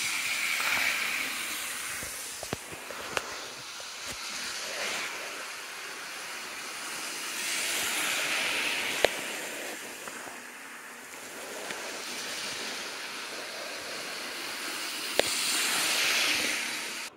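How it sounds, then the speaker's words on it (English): Kato N scale GS-4 Daylight model locomotive running fast on a layout, a steady hissing whir of small wheels and motor rising and falling in waves as it passes, with a few sharp rail-joint clicks. "it goes pretty fast, which is good, because this is a high-speed locomotive"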